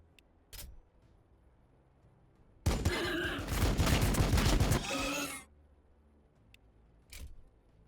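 Rapid bursts of gunfire from a Warhammer 40k Battle Sector strategy game erupt loud and dense for about three seconds, framed by a few isolated sharp shots before and after in a quiet background.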